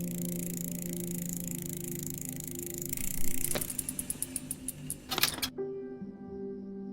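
Traffic noise from the point and click adventure game The Hand of Glory, set on the outskirts of Miami: a steady road rumble with passing cars, a few sharp clicks and tones, and a brief swell before it cuts to quieter hum.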